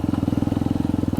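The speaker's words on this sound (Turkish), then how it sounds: "Harika ara gaz diyor ya gerçekten." A Kuba Race 125 carbureted motorcycle engine running close by, with a fast, even putter of firing pulses throughout and no voices.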